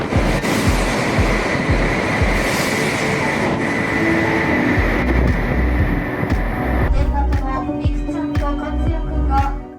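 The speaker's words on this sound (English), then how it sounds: "Shinkansen trains tear through Kokura Station at 186 miles per hour" A Shinkansen bullet train races through Kokura Station at high speed, a loud continuous roar and rush of wind that ends in a sharp rhythmic rattle of wheels as the last cars pass.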